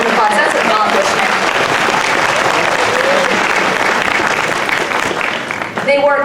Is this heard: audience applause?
yes